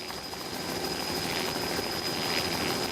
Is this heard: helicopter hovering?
yes